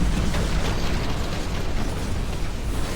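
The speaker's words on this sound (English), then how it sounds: "Sniper took out that tower." A tower collapsing under sniper fire in the mech tactics game Phantom Brigade, a loud continuous rumbling crash of crumbling debris and rattling destruction filling the whole stretch without pause.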